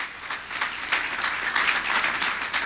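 A church congregation claps together in a steady, dense wash of applause, moderately loud and continuous for a few seconds.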